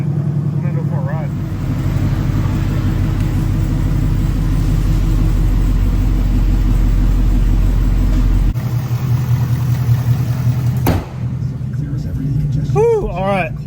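A 2020 Ford Mustang GT V8 idles with a deep, steady, loud rumble that shifts tone briefly partway through, with faint voices near the end.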